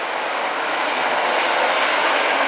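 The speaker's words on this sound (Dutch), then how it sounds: "Er komt een vrachtwagen aan, die gaan we ook nog even filmen" Truck passing on a road near a fireworks warehouse, a steady broadband roar that stays loud and even for the full two and a half seconds with no speech.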